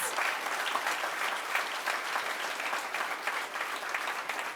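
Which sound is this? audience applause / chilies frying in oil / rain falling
audience applause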